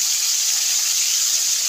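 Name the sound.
Bhola fish pieces frying in oil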